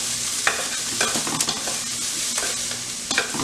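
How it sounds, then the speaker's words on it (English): Broccoli and other vegetables stir-fry in a very hot pan, giving a steady sizzle with periodic scraping and tossing from stirring, close and clear without talk. "See, our pan's super hot. That broccoli's even getting a little brown on it"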